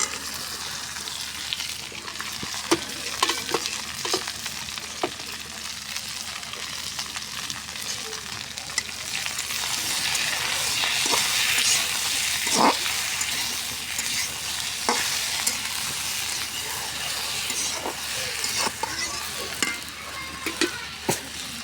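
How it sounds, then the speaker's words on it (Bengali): Okra frying in a pan with browned onion and garlic, stirred throughout: a steady loud sizzle, swelling midway, punctuated by regular sharp scrapes and clicks of the utensil against the pan. "এখন আমি ঢেঁড়সটা দিয়ে দিব।"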